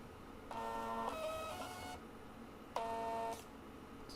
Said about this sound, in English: I like this little printer.